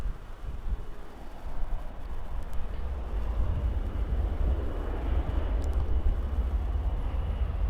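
An Embraer jet at Birmingham Airport, a steady low engine roar heard from a distance with continuous broadband rumble and no talking.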